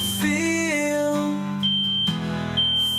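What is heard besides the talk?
building fire alarm droning high-pitched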